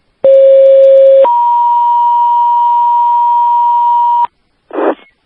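Fire dispatch radio alert tones play loud and clean: a short low steady tone steps up to a longer higher one held for about three seconds, then a brief burst of radio static.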